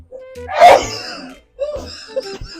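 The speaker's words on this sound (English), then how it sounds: "Is that your sneeze?" One sharp, loud sneeze from a person trying to sneeze with eyes open, followed by brief voiced sounds and a short groan nearby.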